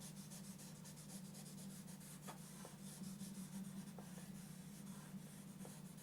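Charcoal is blended on drawing paper by rubbing, giving a very faint, continuous soft scuffing with occasional light strokes, quiet and close with no talking.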